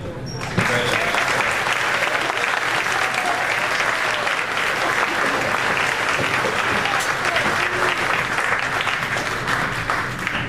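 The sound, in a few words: applause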